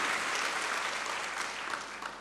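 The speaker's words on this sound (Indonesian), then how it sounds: "Ayo kita tepuk tangan yang meriah bagi Kristus Yesus Tuhan" A church congregation applauds for Jesus Christ at a service led by Ps. Yusak HS, giving a brief burst of dense, even clapping that sounds slightly distant.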